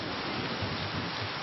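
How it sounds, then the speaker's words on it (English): Heavy jungle rain pours down in a steady, dense hiss, with a low rumble of thunder rolling underneath throughout, no voices. "The weather is absolutely throwing it down."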